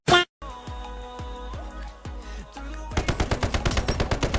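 Gunfire during a fight in the video game Indus: a few heavy single shots with falling echoes, then a rapid automatic burst of evenly spaced shots, loud and close, with no talking.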